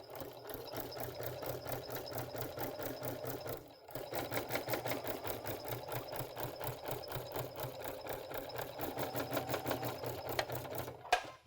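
A Baby Lock sewing machine fitted with a ruffling foot stitches fabric in a steady, rapid mechanical whir, pausing briefly near the middle before running on and stopping with a small clunk at the end.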